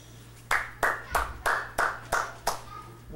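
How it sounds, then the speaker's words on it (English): Seven sharp hand claps in a fairly steady rhythm, close by, over a low steady hum. "Clap your hands."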